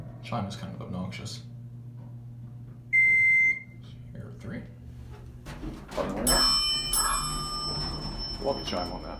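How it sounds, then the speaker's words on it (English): Otis hydraulic elevator arrival chime rings out as a short, loud electronic tone, followed later by further bright chime tones, with someone talking nearby throughout. "Chime is kind of obnoxious."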